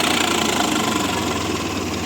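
Tractor engine idling after the throttle is eased back, a steady close rumble with a slight knocking pulse that holds level throughout, no voices heard.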